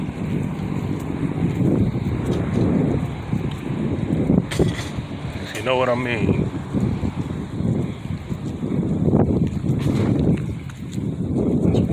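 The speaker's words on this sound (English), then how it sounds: "It's windy, breezy, and cool." Steady wind at Buckroe Beach in Hampton, Virginia buffets the microphone with a constant roar, while someone briefly speaks over it.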